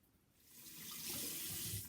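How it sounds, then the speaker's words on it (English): Water runs from a bathroom sink tap to rinse off a lip scrub. It is a soft, steady hiss that builds over two seconds, heard alone and fairly faint. "I usually just like rinse it off with water"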